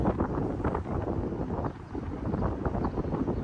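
Steady wind buffeting a microphone outdoors in New York while wildfire smoke drifts over the city, a loud, continuous rumbling roar with no talk heard.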